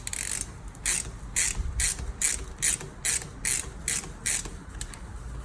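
A ratchet wrench clicks in a steady run of about a dozen sharp, evenly spaced bursts, close by and fairly loud, as a socket is tightened onto an AN hose fitting held in a clamp.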